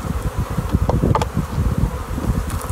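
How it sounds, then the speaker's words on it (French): Honeybees buzz densely and continuously close by at the hive, a busy swarming hum with a few brief louder passes. "T'as les abeilles qui rentrent."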